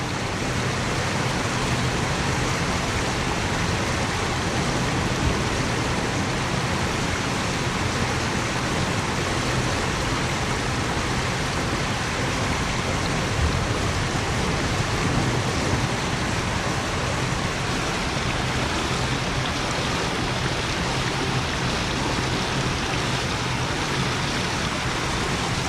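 A small stream flowing steadily outdoors: a constant broadband rush of water with no breaks or voices, fairly loud and unvarying throughout.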